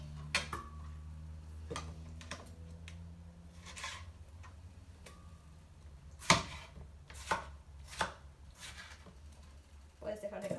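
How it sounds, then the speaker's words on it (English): Knife chopping tomatoes on a cutting board, irregular close taps spread across the clip, with quiet background hum. "We're gonna just chop our tomatoes"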